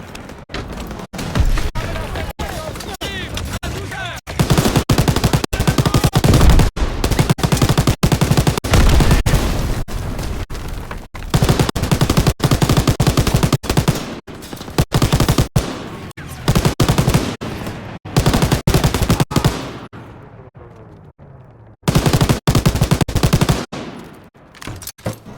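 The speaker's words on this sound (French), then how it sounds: "Daniel, c'est la mitrailleuse de F-Track" Sustained machine gun fire in a Call of Duty WW2 battle, loud dense bursts of rapid shots running almost throughout with brief gaps, shouting voices mixed in under the gunfire.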